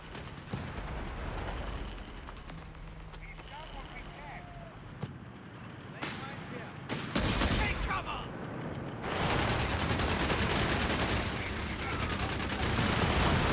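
MG34 machine gun firing in Company of Heroes 3, with sharp bursts and scattered shots amid battle noise and rumbling vehicles, under a talking commentator.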